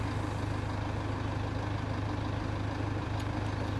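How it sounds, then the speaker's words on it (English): A diesel tractor engine in the video game Farming Simulator 17 idles with a steady low chugging rumble, a constant mechanical throb with no voices. "So let's start this tractor up."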